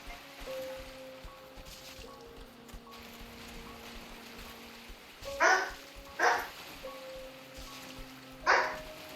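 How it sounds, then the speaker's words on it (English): A pet dog barks indoors, three or four sharp, fairly loud barks spaced a second or two apart, rising above a quiet background of low game music. "my dog thinks she is saving me"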